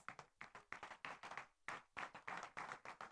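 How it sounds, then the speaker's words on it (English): Scattered clapping from an audience at a school prize-giving ceremony, applauding the school management: irregular bursts of hand claps that come and go in loose groups, moderately close and fairly faint. "please can we give them a round of applause?"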